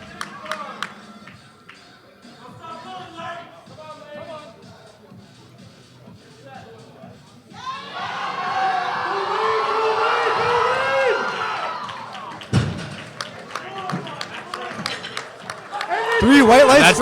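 Crowd at a powerlifting nationals meet erupts into loud, sustained cheering and clapping for a deadlift attempt, swelling over several seconds before a sharp burst and renewed shouting near the end.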